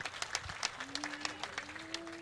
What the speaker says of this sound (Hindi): एक बार आप अपने सौभाग्य के लिए और पुण्य के लिए तालियों से समर्थन कर लीजिए बंधु।